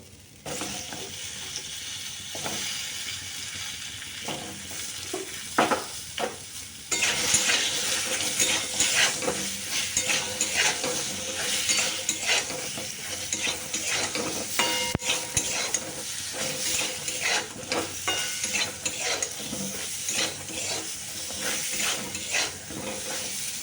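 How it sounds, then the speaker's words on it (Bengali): Pieces of pointed gourd (potol) fry in oil in a pan, with a steady, fairly loud sizzle and hiss. The sizzle jumps up sharply partway through, and scattered stirring clicks and scrapes run over it. No one speaks. "পটলটা ভালো করে ভেজে নিচ্ছি আগে"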